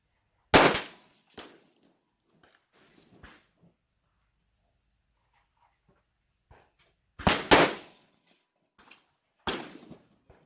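Ruger Precision Rifle 6.5 Creedmoor fired on an outdoor range, sharp loud reports at the start and again later, each with a brief decaying tail and quiet gaps between.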